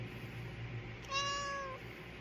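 A single cat meows once, a clear drawn-out mewl rising and then trailing off, fairly close and alone against a quiet indoor hum.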